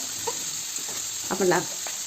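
Onion, tomato, chili, garlic and ginger roast in hot oil with a little turmeric, a soft continuous sizzle with light stirring scrapes, and a brief voice murmurs partway through.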